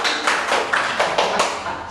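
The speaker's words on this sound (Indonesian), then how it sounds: "Kasih tepuk tangan buat Arta." A small audience claps for a sponsor during an Indonesian podcast about education, a brief burst of dense, fairly loud clapping lasting about two seconds.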